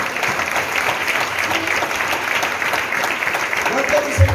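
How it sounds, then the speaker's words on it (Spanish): A church congregation applauding strongly during a Spanish-language service, steady dense clapping throughout with a voice briefly audible near the end. "Denle un aplauso fuerte al Señor."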